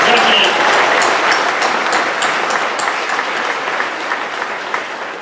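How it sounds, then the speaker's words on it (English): A crowd claps steadily and enthusiastically, a dense wash of applause that holds for several seconds and fades only slightly. "let's give them a round of applause"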